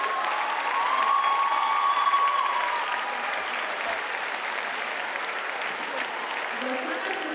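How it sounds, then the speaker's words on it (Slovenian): Audience applause at a charity concert, a dense, steady wash of clapping from a crowd that holds evenly for several seconds and tapers slightly toward the end. "vas še enkrat prosim za en velik aplavz za vse nastopajoče"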